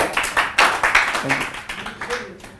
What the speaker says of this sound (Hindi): प्लीज एक बात जोरदार तालियां